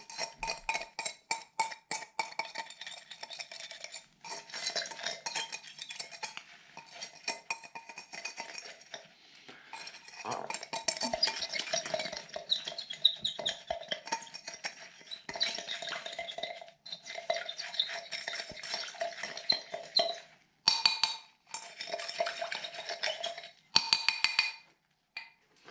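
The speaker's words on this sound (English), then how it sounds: "I'll be taking this iron tool and I'll be scraping it off" Iron tool scraping residue off the bottom of a glass container of copper sulfate solution, a rapid series of close scratchy clinks and rasps in uneven bursts with brief pauses between strokes.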